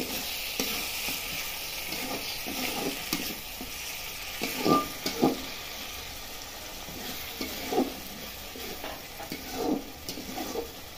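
Rohu fish curry simmering in a pan as water is poured in, a steady sizzle with bubbling bursts and occasional stirring scrapes, close and continuous with no talk.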